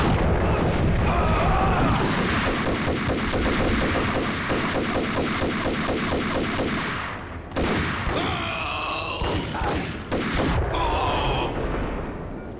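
Max Payne video game firefight: rapid bursts of loud gunfire and booming blasts from a grenade explosion pound steadily for several seconds, then give way to scattered shots and clattering debris.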